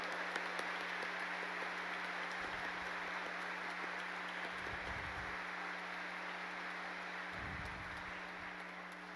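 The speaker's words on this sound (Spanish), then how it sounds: "Yo creo que en este momento debemos darle un fuerte aplauso a Don Bosco" A church congregation applauds during a Don Bosco novena sermon, a steady, even wash of many hands clapping that carries on throughout over a low electrical hum, with no voices.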